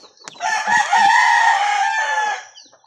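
A straight pumpkin gamefowl rooster crows loudly and close, one long sustained call preceded by a few short clucks.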